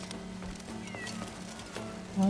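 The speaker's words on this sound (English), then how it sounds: "I'm just seeing normal cats." A cat in the video game Crimson Desert meows a few times close by. The meows sit over a low, steady hum of game ambience and rise into a stronger call near the end.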